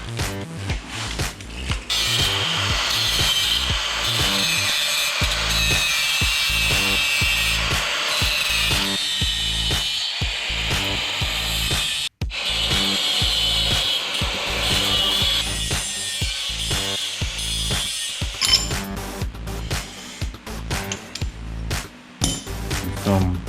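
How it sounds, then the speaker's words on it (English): An angle grinder cleans up a plasma-cut hole in metal, a loud, continuous harsh grinding whine near the microphone with rhythmic surges and a brief cut-off midway. "I'm gonna go ahead and take the grinder and clean this up a little bit so it's a little easier to work"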